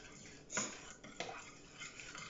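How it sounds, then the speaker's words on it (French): Icing sugar being stirred into oil in a mixing bowl, a few soft scraping and clinking strokes against the bowl, fairly faint and close, with no talking. "le sucre glace pour ne pas avoir des grumeaux, avec l'huile. Je mélange bien."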